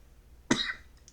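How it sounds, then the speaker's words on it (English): A single sharp cough, close and fairly loud, from a person who smokes cigarettes, with a brief faint trailing sound after it. "sorry guys, I don't know where this cough is coming from."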